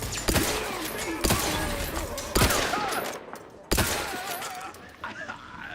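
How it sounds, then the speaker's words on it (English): Rifle fire in The Outer Worlds 2, four loud, sharp, separate shots spaced about a second apart, each ringing out with a decaying tail over a busy game soundscape, with a voice talking underneath. "This is solid rifle"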